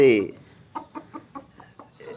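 A native country chicken clucks in a steady run of six or seven short, evenly spaced clucks, following a louder squawk at the start, close by.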